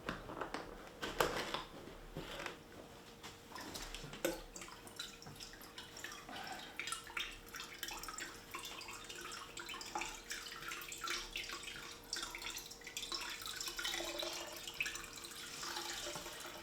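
Apple juice drips and trickles steadily from pressed pulp during homemade cider making, a continuous light splattering of liquid at close range with faint background noise and no talking.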